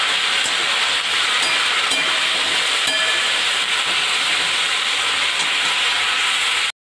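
Steady, loud hissing and sizzling of a hot pan after a little water is added to cooking ripe sweet pumpkin chutney, a continuous bright wash of steam and spatter with no speech.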